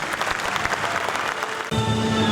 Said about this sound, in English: one more round of resounding applause for the graduates of 2023